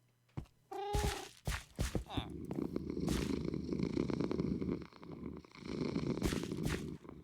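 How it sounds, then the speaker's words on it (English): A loud, steady purr from a sleeping cat rumbles continuously after a few brief meows and soft thumps at the start, close and dominating the recording. "that is an epic purr. He's asleep! No wonder he's purring so loud."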